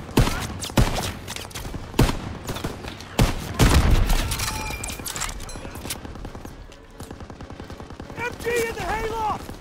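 Machine gun fire and artillery shelling in the World War II video game Call of Duty WW2, with dense loud bursts and heavy impacts near the start, then rapid steady gunfire continuing under shouted voices.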